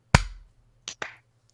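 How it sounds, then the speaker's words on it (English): A sharp hand clap used to sync a podcast recording, one loud crisp smack followed by two lighter claps close together, alone in a quiet room. "let's do a sync clap"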